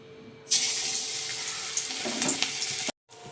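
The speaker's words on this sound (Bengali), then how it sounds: "এবারে প্রতিটা এইভাবে ভাজবো" Bora fritters frying in hot oil in a kadai give a steady, close, loud sizzling hiss that starts abruptly, holds evenly for about two and a half seconds, then cuts off.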